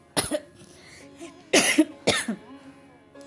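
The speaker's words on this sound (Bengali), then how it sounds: "বেশি কথা বললে একটু হচ্ছে ইসে হয়ে যায়, কাশি ওঠে আর কি" Three bursts of harsh coughing from one person, close and loud, spaced about half a second to a second apart with a throaty rasp between them.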